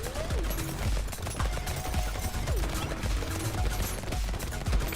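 Turrets in the Brotato video game fire rapid, continuous bursts of gunfire that sound like a fusillade across a large map area, with busy game effects throughout.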